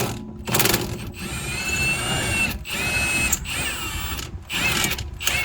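An impact wrench works loose an 18 mm bottom strut bolt on a 2005-2010 Chrysler front suspension, firing in several loud, close hammering bursts separated by short pauses.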